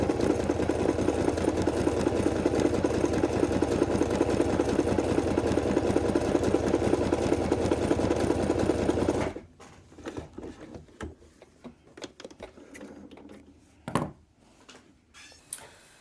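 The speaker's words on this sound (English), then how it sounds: "we're going to stitch all these with a 1/4 inch seam allowance" A sewing machine runs steadily and close up, stitching quilt seams with a quarter-inch seam allowance, then stops abruptly; afterward come quiet handling clicks and fabric rustles.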